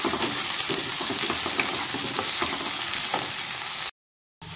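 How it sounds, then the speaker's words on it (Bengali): Boiled potato pieces frying in a pan, a continuous close sizzle with faint stirring scrapes, cut off abruptly by a short silence before resuming. "আলুর সাথে আমি একটু লাল করে ভেজে নেব আলুটাকে।"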